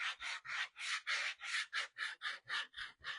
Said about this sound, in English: I'm going to sand this back just a little bit.